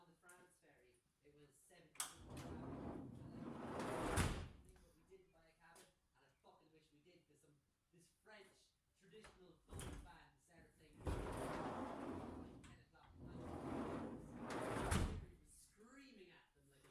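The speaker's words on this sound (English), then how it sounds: "So might just give the sliding door a try there now." A VW T25 van's sliding door rolls along its track and bangs shut twice, each long grinding slide ending in a heavy thud, heard close.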